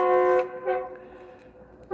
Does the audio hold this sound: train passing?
yes